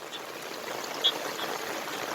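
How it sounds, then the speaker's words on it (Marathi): Water runs steadily through a pipe for borewell recharge in a soft, continuous rushing flow, close by, with no voices. "हे चौथो पाईप नितळ पाणी जातो आहे"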